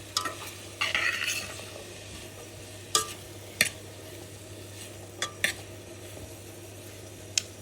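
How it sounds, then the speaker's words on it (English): A vegetarian dish sizzles quietly in a pan as a utensil stirs it, with a continuous frying hiss broken by sharp scraping clicks scattered throughout. "Give it another stir."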